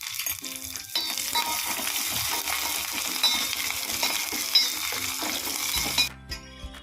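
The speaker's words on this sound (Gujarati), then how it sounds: "તેલ ગરમ થઈ ગયું છે આપણે તેમાં રાઈ ઉમેરીશું લીમડાના પાન ઉમેરીશું અને લીલા મરચાંની કટકી ઉમેરી દેશું" Mustard seeds, curry leaves and chopped green chilli sizzle loudly in hot oil for a Gujarati khaman dhokla tempering, with a steady crackling fry and stirring scrapes of a utensil against the pan. The sizzle cuts off abruptly near the end.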